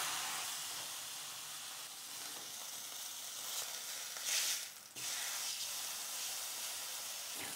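Beef fillet sizzles steadily in olive oil in a frying pan, a close, even hiss with a brief louder burst partway through and no talk.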